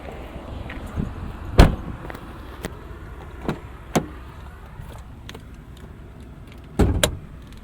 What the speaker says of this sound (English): I'm going to go ahead and get out and pop the hood.